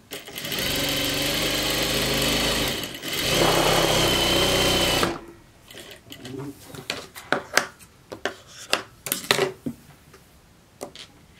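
A sewing machine stitches fabric in two steady, loud runs of rapid mechanical whirring, then stops, followed by scattered clicks and handling noises.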